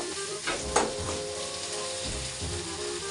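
Prawns fry in a pan with salt, a steady close sizzle broken by a few scraping stir strokes near the start and again around the middle.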